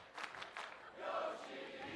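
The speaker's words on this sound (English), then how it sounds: "And crowd getting behind Yoshihiko." At a pro wrestling event, the arena crowd rallies behind a wrestler, first with a few scattered shouts and then with a swelling roar of cheers, heard from a distance.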